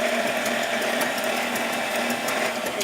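Johnnycake batter being beaten with an electric mixer, a steady continuous whir with a faint clattering rattle, close and fairly loud throughout with no talking.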